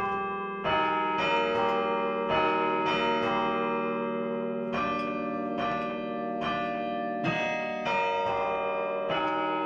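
Church tower bells in an 11th-century tower, chimed by hand as a melody, a steady sequence of resonant struck tones with long overlapping ringing, no voices.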